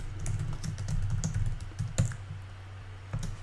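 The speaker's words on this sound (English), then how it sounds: "we can simply type in our text here" Quick, uneven clicking of a computer keyboard as text is typed into a Google Docs page, with a burst of keystrokes, a louder tap near the middle and a short final flurry, all close and clear.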